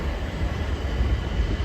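A Guildford service train pulls into Clapham Junction station, a low steady rumble of wheels and engine, close and continuous with no voices.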